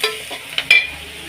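Onions sizzling in a frying pan, stirred with a small spoon, a few brief scraping stirs over a steady low hiss, close and fairly loud with no talk.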